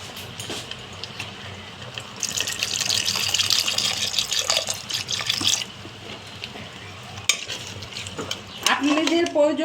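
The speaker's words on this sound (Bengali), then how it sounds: "এখন দিয়ে আমি একটু জল দিয়ে দেব" Water poured into a pot of five-lentil dal with pumpkin greens, a pouring splash over stirring and clinking of a spoon against the pot, with soft sizzling underneath; fairly close and steady.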